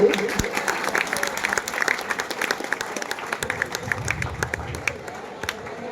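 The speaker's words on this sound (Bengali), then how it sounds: "হাততালি।" Applause from the audience at a college freshers' welcome program in Suri as a guest from a voluntary blood donation association is honoured, dense steady clapping that runs the whole time with a faint voice underneath.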